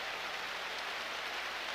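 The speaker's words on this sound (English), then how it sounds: "It is pouring down rain" Rain pours in the NFL 2K5 football video game, a faint, even broadband hiss that holds steady throughout without talk over it.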